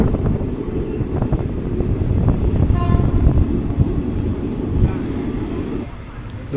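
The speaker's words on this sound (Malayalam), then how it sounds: "ഇതോ കിടക്കുന്നു വന്ദേ ഭാരത്." A Vande Bharat train sits at platform 4 of a busy Indian railway station, with a deep rumbling drone of rail noise and a brief horn-like tone, while people talk nearby.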